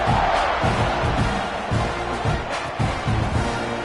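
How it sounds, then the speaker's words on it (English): A football stadium crowd during a college game roars loudly and continuously, a dense wall of cheering and shouting with pulsing swells that stays close and overwhelming throughout. "You think this crowd's going to get loud when their defense comes on the field?"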